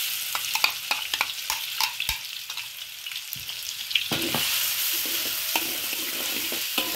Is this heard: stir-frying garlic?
yes